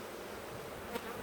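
Honey bees buzz at an open hive during a colony inspection, a faint, steady insect drone close by with no voices.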